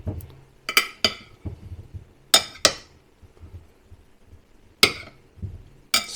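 Tinned potatoes coated in garlic butter stirred in a bowl, giving scattered clinks and scrapes of a utensil in short irregular bursts with quiet pauses between.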